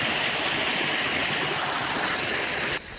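Water gushes steadily from a spout used for bathing and washing the head outdoors, a loud, continuous rushing stream that cuts off abruptly just before the end.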